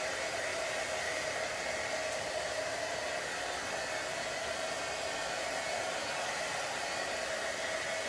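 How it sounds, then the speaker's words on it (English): A hair dryer blowing on a spring DIY centerpiece with floral foam, a steady close whooshing hiss with a faint whine that holds constant throughout, no talking. "Okay, blow drying."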